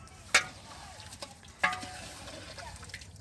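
A spoon stirs chicken curry in a pan, giving two sharp scraping clinks over a steady soft sizzle, close and fairly quiet.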